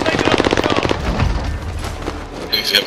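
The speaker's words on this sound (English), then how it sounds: "Oh, I'm getting shot from behind too now." Rapid automatic gunfire rattles in a shooter video game, a close burst of evenly spaced shots followed by scattered further shots, with a player's voice talking over it.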